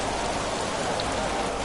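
Steady rain pours in a racing video game during a wet race at Zolder, a dense, even hiss that fills the moment without any voices.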